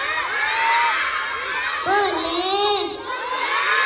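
Loud children shouting and cheering together in a classroom during a Ramadan storytelling session, a dense crowd of young voices rising and falling throughout, with a brief adult voice near the start.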